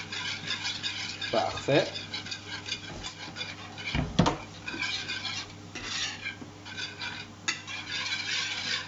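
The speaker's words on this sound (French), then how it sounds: "Et au fouet, on va venir mélanger pour faire un œuf brouillé." A whisk beating eggs in a pan for scrambled eggs, a fast steady metallic scraping and clicking against the pan, close and fairly quiet, with a voice talking briefly over it.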